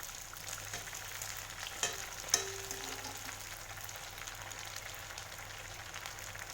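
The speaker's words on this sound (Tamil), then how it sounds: "2 பக்கமும் நல்லா கோல்டன் ப்ரௌன் கலரில் வர வரைக்கும் நல்லா ஃப்ரை பண்ணி எடுக்கணும்" Bonda frying in hot oil until golden brown on both sides, a quiet, even bubbling sizzle with a couple of sharp clicks from a utensil, heard alone without voices.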